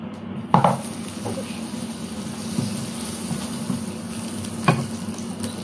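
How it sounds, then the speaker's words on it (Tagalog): Butter melting and sizzling in a hot pan, a steady close frying hiss with a few sharp clinks of a utensil against the pan, no talk. "Mainit na itong kawali. Mainit na. Tapos ilagay ko na ang butter."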